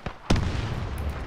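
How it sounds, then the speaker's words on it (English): A rocket strikes a tank in Arma 3 (ALiVE scenario): a small pop, then a heavy, close blast with a booming rumble that rolls on and slowly fades. "A rocket hit the tank."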